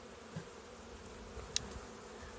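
Honey bees buzzing over hive frames during a spring hive inspection, a faint, low, continuous hum with a brief click partway through.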